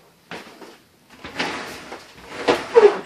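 A glass sliding door on a corner shower in a 2016 Palomino Puma 39PQB park model trailer rolls open, giving several soft rumbling slides and light knocks, close by and with no voices.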